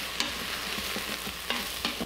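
Minced garlic and red pepper flakes fry in a pan with steady crackling sizzle, broken by a few sharp scrapes of stirring; close and continuous, no talking.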